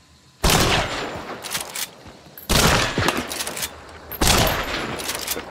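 Three loud bursts of rapid gunfire from the video game Hunt: Showdown, each a dense volley lasting over a second, separated by short quieter gaps, with no talk.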